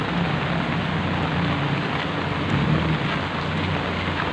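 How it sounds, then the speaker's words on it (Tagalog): Heavy rain pours steadily on flooded streets in Paco, Manila, in a dense, continuous hiss, with a low rumbling undertone throughout and no voices. "Lakas ng ulan kaya baha."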